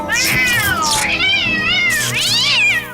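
A cat meows and yowls loudly at close range, giving several drawn-out, wavering cries in quick succession with a strained, distressed tone.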